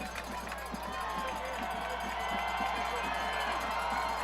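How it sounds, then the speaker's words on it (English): A crowd at a high school football game, Oakland at Brentwood, cheers steadily in a continuous roar while a commentator talks over it. "The crowd is starting to chime in a little bit"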